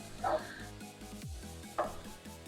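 A dog barks somewhere in a home, two short barks about a second and a half apart, moderately distant over a steady background hum with no talking.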